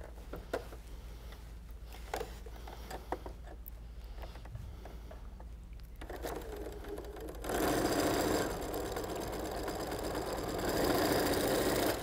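A sewing machine stitches quilt pieces together with a quarter-inch seam, a steady mechanical whir that starts softly and turns loud and continuous midway, running without speech throughout.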